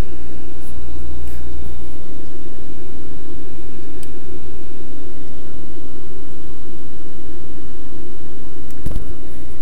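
A train locomotive engine under throttle climbing a mountain grade in Train Simulator 18, a loud steady low rumble that fills the whole stretch, with no talk.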